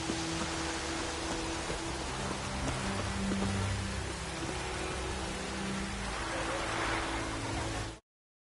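Rain falls steadily in The Witcher 3, a dense even hiss across the whole stretch with low rumbles beneath, before cutting off abruptly at the end.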